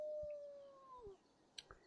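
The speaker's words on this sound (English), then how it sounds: "as you can hear, our wolves are out there howling" A lone timber wolf in Planet Zoo lets out a long, faint, falling howl that slides downward and fades, with a couple of soft clicks and a brief chirp around it, far off and quiet.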